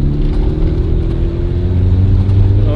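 A NOS-tuned car engine revs close and loud, its deep droning hum holding steady and climbing slightly in pitch toward the end.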